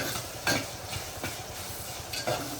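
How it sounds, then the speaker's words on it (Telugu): Ginger garlic paste fries in a clay pot as it is stirred, with a soft continuous sizzle and a few scraping stir strokes rising above it, close and fairly quiet. "అల్లం వెల్లుల్లిపాయ పేస్ట్, ఒకసారి తిప్పుకోండి."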